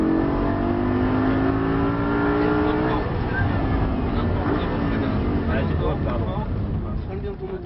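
A Lamborghini engine roars close by at full throttle on a track driving course, its pitch climbing and shifting through gears, with wind rush and a voice speaking over it.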